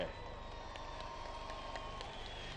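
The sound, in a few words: rally crowd clapping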